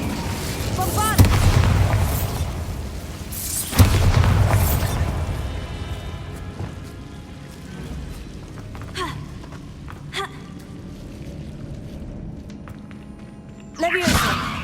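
A Bombarda spell explosion in Hogwarts Legacy lands as a heavy boom, followed by a second blast and a long rumbling decay, with gasps and game sounds around it.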